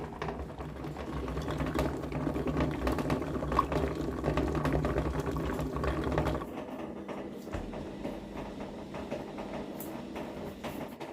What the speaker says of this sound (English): So I'm boiling them up, putting new wicks in and pouring it into that one.